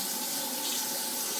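Tap water runs steadily and loudly from a faucet into a sample bottle, a continuous close-up rushing splash that does not change.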